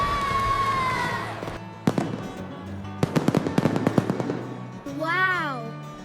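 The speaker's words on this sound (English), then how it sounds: "The fireworks will begin soon." Fireworks popping in a rapid crackling burst of sharp bangs at an amusement park, with music and a voice heard before and after.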